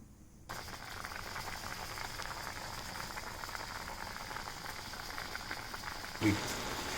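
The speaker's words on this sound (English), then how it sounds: "And just let it boil for 5 minutes." Steady bubbling and hissing of water boiling with vegetables in a pan, continuous and fairly close, with a brief clunk near the end.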